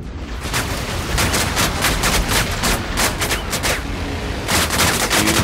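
Rapid gunfire in a Viking-themed video game, a dense run of loud sharp shots in quick bursts, then a brief pause and more firing.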